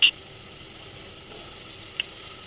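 Onions and ginger-garlic paste fry in a pan with a steady low sizzle, opening with a brief utensil click and one more light tap partway through, and no voices.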